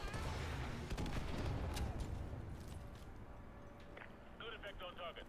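Gunfire in Call of Duty Modern Warfare 2 Remastered, dense bursts of shots crackling close by that thin out into scattered reports and sharp metallic clicks.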